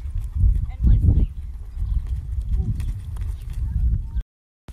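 Hooves of a ridden horse clip-clop on the ground in an uneven rhythm, close by, with a few heavier thuds in the first second and a rider's voice speaking over the steps.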